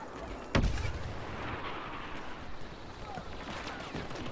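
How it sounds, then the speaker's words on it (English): Grenade explosions in Star Wars Battlefront multiplayer on a mountainous map: one sharp blast, then a continuous rumbling din of gunfire and battle noise, fairly faint overall. "Grenades flying everywhere."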